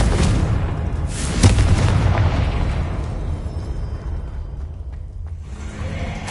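A Confringo blasting spell in Hogwarts Legacy, a loud close explosion with a sharp burst and booming rumble that decays into a lingering crackle, with no speech.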